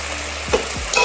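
Peanuts and dal fry in a pan for a Maharashtrian hulpali dish, a soft sizzle under two quick stirring scrapes of a spoon, then a brighter burst of frying near the end.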